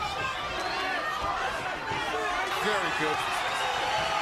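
A boxing crowd cheering on Juan Diaz during his fight against Paulie Malignaggi, a dense steady roar of many voices with shouts rising out of it, heard throughout with a voice speaking briefly over it.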